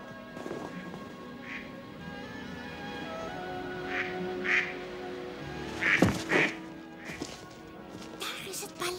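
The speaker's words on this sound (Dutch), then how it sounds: "Ik hoor kwaakeenden daar beneden." Ducks quacking below in St. James Park, London, giving several short quacks at a moderate distance over an outdoor background, with voices speaking in the scene.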